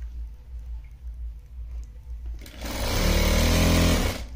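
A sewing machine stitches lehenga fabric, its motor starting midway as a steady, loud mechanical whir that runs continuously to the end after a quiet lead-in.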